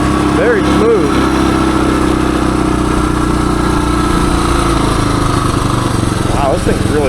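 A 1978 Suzuki DR370 dual-sport motorcycle engine pulling uphill in third gear, a loud, steady close-up drone with wind buffeting and a rider speaking over it.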